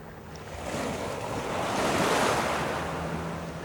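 Sea waves washing onto the shore at Merlin Bay with wind buffeting the microphone, a steady rushing roar that swells gradually and stays loud throughout, no voices.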